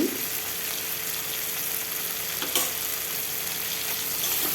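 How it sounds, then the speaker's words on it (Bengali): Sea crab pieces in a spicy oil-and-chili masala fry again in a pan, giving a steady, close sizzle that holds evenly for the whole stretch, with a faint clink of stirring partway through and no voices. "আবারও কিছুক্ষণ ভেজে নেব"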